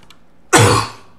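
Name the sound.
cough and throat clearing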